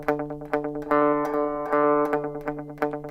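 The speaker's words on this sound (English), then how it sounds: "if I mute, it's like a pizzicato" Guitar strings are plucked in a quick run of short, clipped, palm-muted notes with the hand resting on the bridge, giving a pizzicato-like sound; one note rings out longer before the muted pattern resumes.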